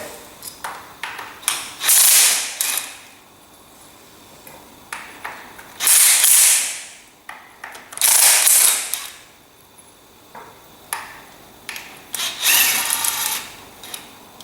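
Bolts on a Massey Ferguson TEA20 tractor being loosened with a wrench, bursts of metallic ratcheting and scraping separated by short gaps, close and moderately loud, with no talk.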